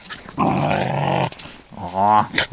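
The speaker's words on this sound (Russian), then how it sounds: "какой злой пес" A dog growls angrily in two close, loud bursts separated by a short pause, the second rising into a whining, throaty snarl, outdoors on a riverside fishing trip.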